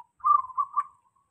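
A zebra dove (perkutut), kept caged and set out in the daytime sun, gives a single short, clear cooing phrase of about a second, with several soft pulses close together and nothing else around it.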